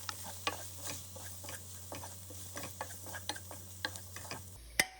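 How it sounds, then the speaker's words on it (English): Spices for egg bhurji are stirred in a hot pan while they sizzle softly. A spoon scrapes and taps the pan in an irregular rhythm over a low, steady hum, with a couple of sharper clinks at the end. "And give that a good stir."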